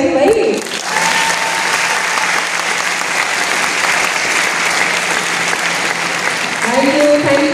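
Sustained audience applause at a national Red Ribbon quiz competition stage event in Patna, loud and steady throughout, with brief talk over a PA at the start and end.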